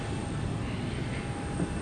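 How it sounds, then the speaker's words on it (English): Steady loud jet engine roar of airplanes at an airport, a continuous broadband drone with a faint whine on top, heard close on the tarmac. "Ah, planes!"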